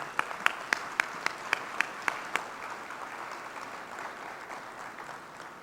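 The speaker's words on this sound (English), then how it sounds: "give a hearty Trinidad and Tobago round of applause to them" A Rotary district conference audience in Trinidad gives a round of applause. It opens with a string of crisp, regularly spaced claps, then settles into a softer, diffuse patter of clapping from a more distant crowd.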